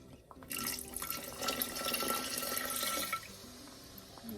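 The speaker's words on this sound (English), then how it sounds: "So let's add our 1/2 cup lemon juice." Lemon juice pours into a pan of cooked apple pie filling as a steady splashing liquid stream that lasts about two and a half seconds, close and moderately loud, then trails off.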